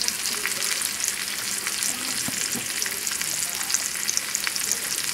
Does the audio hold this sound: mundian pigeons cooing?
no